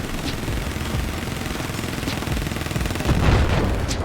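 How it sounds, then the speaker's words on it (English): A 30mm cannon fires in the Battlefield 4 video game, rapid loud repeated shots blending into a continuous barrage with heavier booms near the end. "I'm using a 30mm cannon right now, as you can see."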